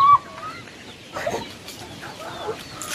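Chickens cluck softly nearby with short, scattered calls, one brief louder squawk at the start and a few quiet clucks afterward.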